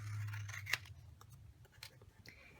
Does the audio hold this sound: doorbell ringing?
no